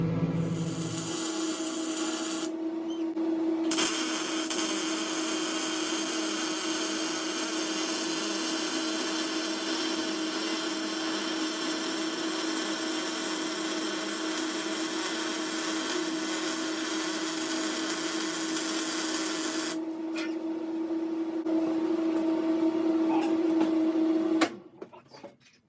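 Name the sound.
welding Baja bug rear suspension arm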